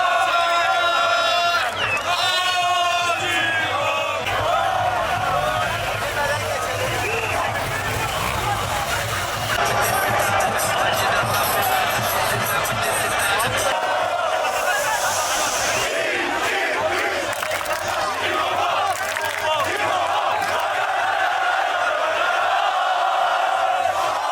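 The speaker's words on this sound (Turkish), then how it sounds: "sarı kırmızılı taraftarlar davul zurna ve halaylar eşliğinde doyasıya eğlendi" Galatasaray fans celebrating a championship in Gaziantep with drum and zurna: a loud, continuous crowd din of chanting and cheering, with a reedy wind melody early on and voices talking throughout.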